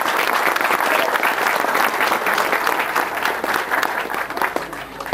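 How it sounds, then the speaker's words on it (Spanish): A congregation applauds for Jesus Christ at a pilgrimage celebration in the Neblinas community, a dense, steady crowd clapping that stays loud and even for several seconds before easing slightly at the end. "Un aplauso a nuestro Señor Jesucristo"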